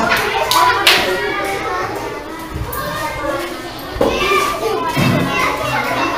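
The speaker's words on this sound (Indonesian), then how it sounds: "tepuk tangan untuk kelompok 2" Schoolchildren in a classroom applaud a student group, a steady, loud clapping that runs throughout, mixed with kids' chatter and voices.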